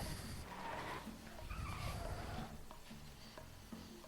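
Car driving and skidding in the video game Sly 2, a faint continuous tire scrub and engine rumble with squealing swells, quiet under game music.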